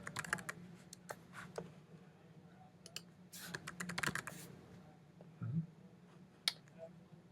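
A password is typed on a computer keyboard while an administrator account is set up in Ubuntu: quiet, irregular clusters of key clicks over a low hum, with brief pauses between bursts.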